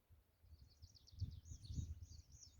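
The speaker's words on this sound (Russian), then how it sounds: "Послушайте пение птиц." Birds sing outdoors on a clear, cloudless day: faint, thin chirps and warbling trills run through the whole stretch over a soft low rumble, distant and quiet.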